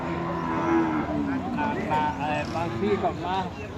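Cattle moo repeatedly at a busy Thai livestock market, loud and close, with someone talking over them and the bustle of the market around.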